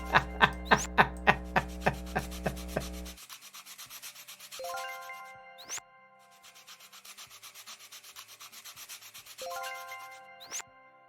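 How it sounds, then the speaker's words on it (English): Wooden toy parts being sanded in the Toy Tinker Simulator game: a loud, rhythmic series of rasping rubs with bright tonal chimes, then a softer continuous scraping broken by sustained tonal layers and brief ding-like accents. "all that sanding is done"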